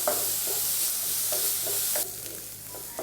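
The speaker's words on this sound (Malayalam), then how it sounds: "വളരെ പെട്ടെന്ന് തന്നെ കളർ നന്നായിട്ട് മാറുന്നത് വരെ നമുക്കൊന്ന് വഴറ്റിയെടുക്കാം." Onions sautéing in a pan over a medium-high flame give a steady close sizzle, with periodic scraping stirs; the frying hiss quiets somewhat partway through.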